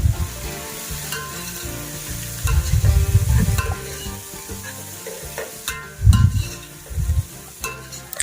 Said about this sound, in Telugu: Onions brown, light golden brown అయ్యే వరకు మంచిగా ఫ్రై చేసుకుందాం.